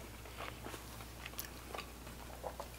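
Several quick, crisp crunches from biting into a caramelized, crispy pizza crust at an Italian pizzeria, heard close and faint over a steady low background hum, with no talking.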